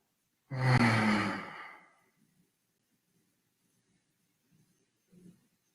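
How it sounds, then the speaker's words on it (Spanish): One long deep breath out, a breathy sigh during a guided meditation, followed by near silence with a few faint soft rustles. "Otra respiración profunda."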